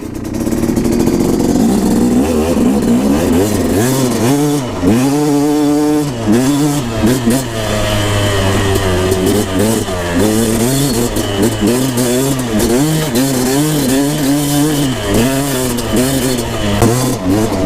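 A KTM 250SX two-stroke dirt bike engine revs hard on a desert ride, loud and close, rising and falling in repeated throttle blips with a buzzy, raspy tone throughout.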